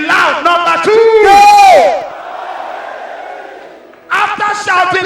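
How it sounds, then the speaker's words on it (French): A church congregation shouts together at full voice on a count, a loud crowd roar with strained, pitched yelling that fades out before more shouting bursts in. "As I count, you shout."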